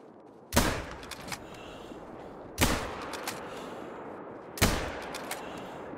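Three loud rifle shots ring out at even intervals of about two seconds in theHunter: Call of the Wild, each a sharp crack with a short reverberant tail fading into quiet.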